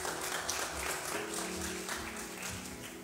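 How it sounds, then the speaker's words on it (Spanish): A congregation applauds their pastor at a church gathering, a steady wash of clapping at moderate distance lasting a few seconds, with a faint low hum underneath. "Un fuerte aplauso para el querido pastor Rubén Darío."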